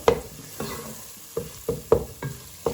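Whole spices fried and stirred in a pan for a Bengali boal fish curry, with distinct scraping stir strokes every half second or so over a steady low sizzle, close and fairly loud.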